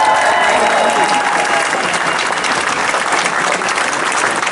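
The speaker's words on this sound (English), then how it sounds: "And please give a cheer for Dan, who has brought it to us." A crowd at a Palestine march claps and cheers continuously, a dense, loud wash of applause filling the whole stretch outdoors.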